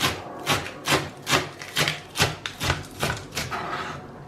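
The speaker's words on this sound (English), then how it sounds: "Shredding is just like this, very finely chopped if you like." A knife shreds lettuce finely on a board in steady, even chopping strokes, about two per second, close and distinct with no talking.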